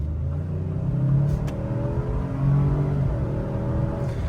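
A 2024 Ford Expedition's 3.5-liter V6 revs and pulls hard under acceleration, a steady throaty rumble with rising tone heard from inside the SUV.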